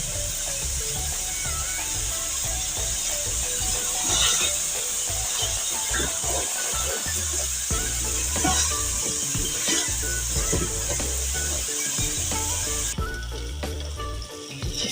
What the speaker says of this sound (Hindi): इसको अच्छी तरह भूनने तुरई को।